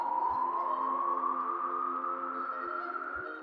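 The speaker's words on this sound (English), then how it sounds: "The first one is a riser" A synth riser played on a Juno 106 slowly climbs in pitch over a few seconds as a steady, sustained tone, with faint low thumps beneath it and no voices.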